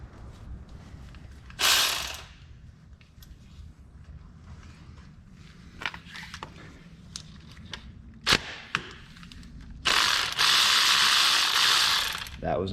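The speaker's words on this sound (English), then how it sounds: "For that one on top of the sensor, I'll be using a deep 13 with a 3-inch extension" A ratchet with a deep 13 mm socket and 3-inch extension loosens an oil filter housing bolt on a Chrysler/Dodge 3.8 engine, giving repeated clicking bursts up close, with a few sharp knocks and a longer fast ratcheting run near the end.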